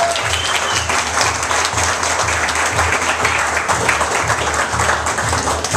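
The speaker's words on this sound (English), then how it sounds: "So everyone, let's give Joanne a round of applause" A Rotary club audience gives a leader a loud, sustained round of applause, dense crowd clapping filling the whole stretch evenly and close-up, with no talking.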